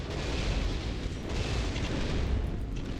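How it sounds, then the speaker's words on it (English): A missile strike in a naval strategy video game lands as a broad, rumbling explosion, a dense low roar that fills the moment without any talking over it. "Another missile strike."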